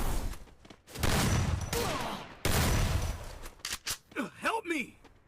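Gunfire bursts rattle in the Free Fire battle royale game, with two dense volleys followed by several short separate shots and game effects, while a player talks over it.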